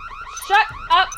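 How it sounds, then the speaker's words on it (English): A fire alarm in the Nancy Drew game Stay Tuned for Danger sounds as two quick, warbling electronic pulses, bright and close, with no talking. "we have to pull down the fire alarm so we can alert Ralph that we're in here"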